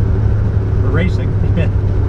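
A 1953 Studebaker engine droning steadily while driving at speed, a constant low hum with a brief voice cutting in over it.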